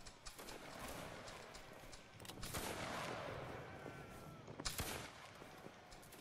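Musket volleys from line infantry in a Roblox Waterloo battle, British Army against Russia: ragged bursts of gunfire crackle at about two and five seconds, loud and close, between quieter stretches of battlefield noise.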